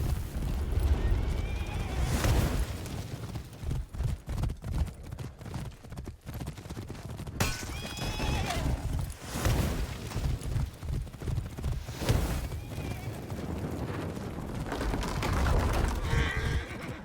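Horses in the video game For Honor, with rapid clip-clop hoofbeats of galloping and shrill neighs and whinnies over battle rumble, continuous and fairly loud.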